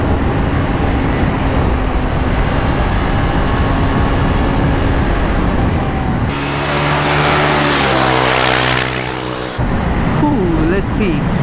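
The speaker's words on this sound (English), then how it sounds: "Now I'm really opening up the throttle, hit the limiter on the third gear there." A KTM Duke 390 motorcycle accelerates hard, its engine note climbing to the rev limiter in third gear, loud and close with wind rush, while a rider talks over it.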